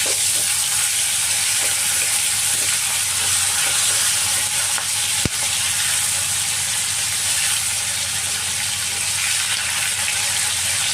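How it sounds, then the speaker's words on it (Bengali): Prawns sizzle continuously in mustard oil as they are turned, a close, dense frying hiss with one sharp utensil knock partway through and no one talking. "মাছগুলোকে আমি উল্টে পাল্টে লাল করে ভেজে নেব"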